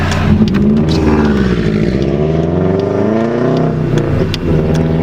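A Volkswagen Golf TDI diesel with 90 hp and 206,000 miles on it, its engine loud and close, droning and rising in pitch as it accelerates through gears, with no talking.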